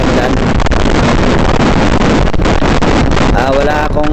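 Motorcycle ridden hard near full throttle at about 100 km/h on a provincial road in Abra, carrying only the rider; steady loud engine drone heavily mixed with wind buffeting across the microphone, constant throughout.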